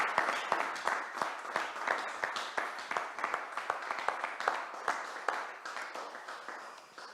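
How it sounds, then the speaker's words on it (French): Warm, sustained applause from a crowd at a ceremony presenting the Council of Europe's plaque of honour to a town, many hands clapping in a thick, continuous patter for about seven seconds, moderately distant. "Georges et Dimitri, je vais vous demander de vous lever pour qu'ils puissent vous reconnaître. Voilà, et vous applaudir chaleureusement à cet instant."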